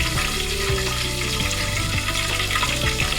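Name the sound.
curry leaves sizzling in hot oil for amti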